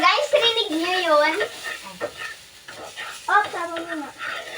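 Fries fry and sizzle in hot oil with a soft hiss beneath, while excited voices talk over it in short bursts.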